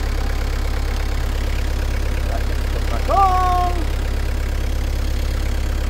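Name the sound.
engine running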